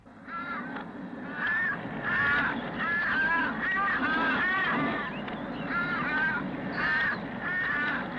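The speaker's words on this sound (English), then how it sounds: "within seconds, crows gather overhead," Crows gathering overhead in the Australian outback give repeated harsh, drawn-out caws, several birds calling in overlapping bursts at a moderate distance over a steady low rumble.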